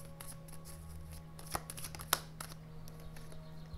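Tarot cards shuffled by hand, a steady riffle of soft papery flicks with a few sharper snaps, close and quiet over a faint background hum.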